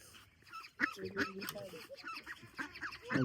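A small group of Muscovy ducks kept in a pen calls close by, a run of short, rough, honking and hissing notes overlapping one another.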